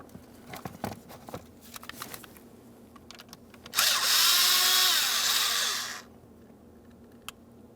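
A power driver backs a T10 Torx screw out of the ignition housing on a 2005-2010 Chrysler 300, running in one steady burst of about two seconds after some faint tool clicks and handling noise.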